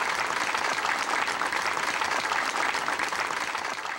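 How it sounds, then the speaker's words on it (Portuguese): Mourners applaud at the funeral farewell of Titãs guitarist Marcelo Fromer, a dense continuous crowd clapping that stays loud and even for the whole span. "E Marcelo Frommer foi embora sob o aplauso de todos."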